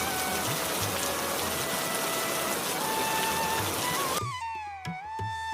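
Steady rain pours down in a dense, continuous wash for about four seconds, then cuts off abruptly, leaving a quieter tonal background with faint soft sounds.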